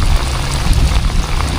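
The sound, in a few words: raindrops hitting a raincoat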